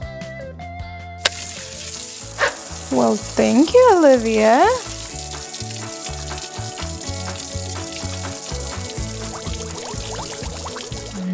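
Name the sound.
water running in a toy washing machine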